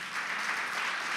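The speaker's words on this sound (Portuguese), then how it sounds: "Queria que um aplauso a Jesus pela sua vida." A church congregation applauds during a worship service, a short burst of dense, steady clapping from many hands that swells quickly and carries on evenly to the end, with no voices over it.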